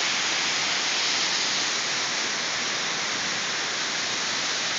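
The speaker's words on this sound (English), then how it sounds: "There's even water falling off of the cliff up there." A high waterfall plunges down a tall cliff of at least 300 feet, a dense, steady roar of falling water that stays loud and unbroken throughout, with no voices.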